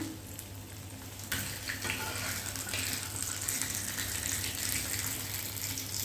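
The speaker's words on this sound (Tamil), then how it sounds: "இப்போ மீனை ஒரு சைடு வந்து திருப்பி போட்டுடலாம்" Fish frying in oil on a medium flame and being flipped, producing a steady close sizzle over a low hum that jumps louder about a second in and stays intense.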